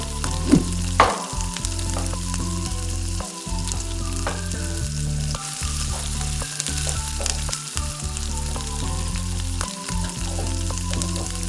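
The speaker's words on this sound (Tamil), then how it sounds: "நல்லா வதங்கட்டும்" Green turkey berries for chutney sauté in hot oil, giving a continuous close sizzle with occasional stirring scrapes and a low steady hum underneath, with no speech.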